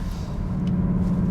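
Low droning synthetic engine note pumped into the cabin of a Cupra Formentor VZ while driving, a steady buzzy rumble with no talk.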